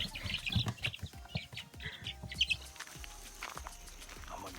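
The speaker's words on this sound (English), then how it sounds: "Let's see what the chickens have to say about the blueberry" A flock of chickens clucks and chirps nearby in short, overlapping bursts, with scattered higher tweets and some shuffling, as they gather around a blueberry.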